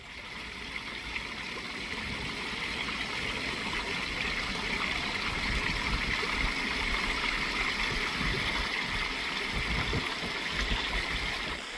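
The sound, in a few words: garden pond waterfall flowing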